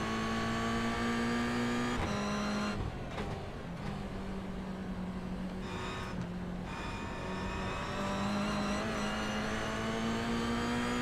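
A Toyota GR86 race car at Sandown downshifts through the gears, its loud engine note dropping in steps with brief breaks where the gearbox clunks between shifts, close and steady with no talk.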